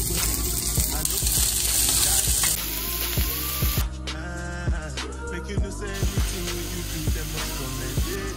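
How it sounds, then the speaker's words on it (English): Sausage fries in a pan with a continuous loud sizzle, broken by soft clinks and scrapes of stirring, with no talking. "So I have to just clear the pan and now I'm adding in the sausage"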